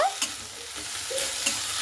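A few quick scraping stirs of fenugreek greens in a hot pan, with a soft sizzle underneath.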